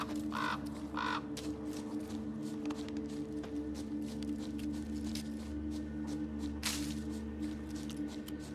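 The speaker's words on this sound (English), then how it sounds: "All I gotta do is follow the cawing." Crows cawing in The Witcher 3, a couple of harsh caws early then another a few seconds later, set against a steady ambient hum with soft footsteps.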